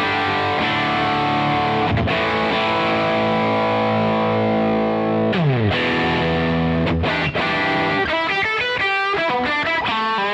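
Electric guitar played through a Crazy Tube Circuits Hi Power amp-style overdrive pedal with the master cranked, giving thick compressed distortion: long sustained chords, a slide, then a quicker choppy riff, loud and continuous with no talking.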